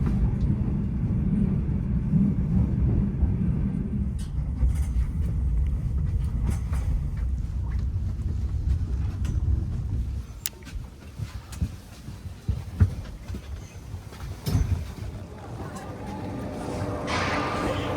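A train runs steadily on the approach into Lviv station in Ukraine, with a heavy low rumble that eases partway through, followed by lighter clanks and creaks as the carriages slow.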